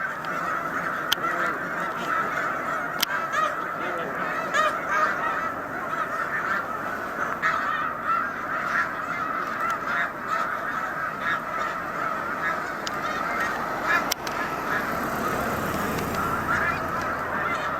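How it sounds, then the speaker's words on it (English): A large flock of snow geese on Cayuga Lake keeps up a dense, continuous chorus of overlapping honks, loud and near with many birds calling at once, no voices over it. "you can see we have a lot of geese here overall"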